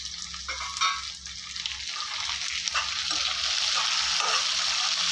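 Garlic, onion and tomato fry in a pan for pepper garlic kulambu with a close, steady sizzle that builds louder, broken by scraping stirs and light utensil taps.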